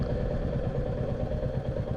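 A Royal Enfield Bullet 350 motorcycle engine runs steadily during a ride, a continuous close, mid-level thumping rumble with constant wind noise and no speech.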